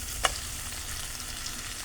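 Potatoes fry with spices in a pan for a Bengali prawn curry (chingri kalia), a steady close sizzle with one brief sharp clink of a stirring utensil near the start.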